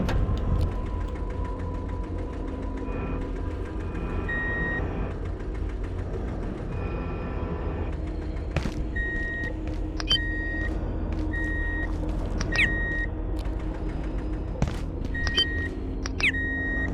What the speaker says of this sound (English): Man, I'm just trying to get it to stop with the whole beeping thing.